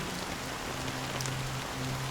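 Steady rain pours in Honkai: Star Rail's Penacony, a dense, even hiss of drops on surfaces with a faint low drone underneath and no talking.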